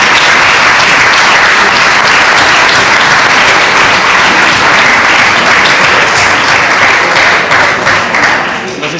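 An audience claps loudly and continuously at a university conference talk on the US elections, dense close applause sustained the whole time with a slight tapering at the end.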